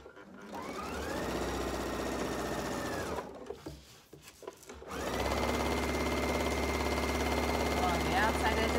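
A sewing machine runs in steady loud whirring bursts while back-stitching a stress point on a market bag, pausing briefly midway with soft handling noises before resuming its continuous hum.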